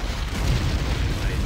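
Loud, continuous low booming of heavy artillery fire in Panzer Corps, shelling a town centre, dense and rumbling with no pause.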